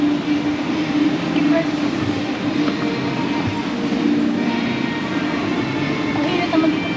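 A train in Singapore rumbles steadily with a low hum and faint clatter throughout, with people talking in the background.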